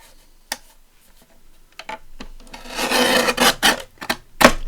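Thick scored card being cut off along its score line, a rasping, scraping sound in short bursts building to a louder, denser stretch of rough cutting, close and clear with no talk.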